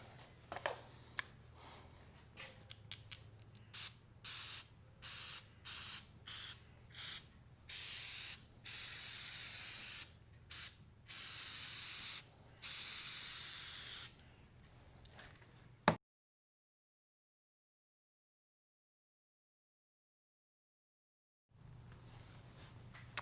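Jasco Professional Strength Premium Paint and Epoxy Remover sprays in a long run of short, close hissing bursts with brief gaps, followed by silence and a faint low background hum.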